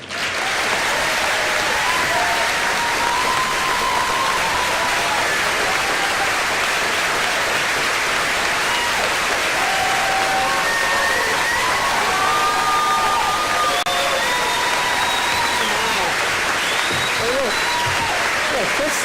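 A large audience applauds steadily, a dense continuous wash of clapping with some cheering, as the governor of Maine is welcomed at a tourism industry gathering.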